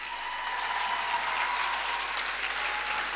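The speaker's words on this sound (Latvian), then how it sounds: "Aplausi, aplausi." Audience applause fills the room at a Latvian-language event, a dense, steady wash of many hands clapping that holds evenly for about three seconds with no voices on top.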